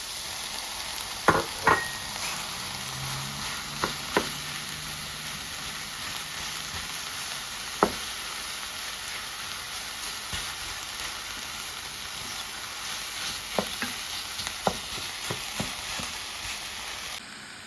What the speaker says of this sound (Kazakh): Енді осыған фаршымызды салып, жақсылап араластырып аламыз.